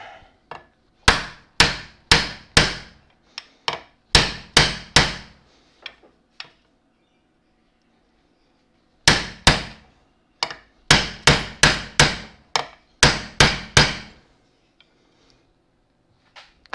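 Sharp hammer blows strike metal in quick bursts of several hits, a pause, then another run of steady, ringing strikes, hammering out a Classic Mini rod change support bush.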